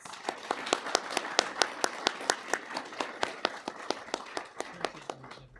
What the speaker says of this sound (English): One more time, a big round of applause.